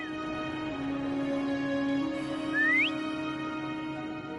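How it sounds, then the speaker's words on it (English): Someone whistles to call a companion in the video game Wuthering Waves: a long steady tone, then a short rising whistle near the end, heard over soft game ambience. "Try whistling."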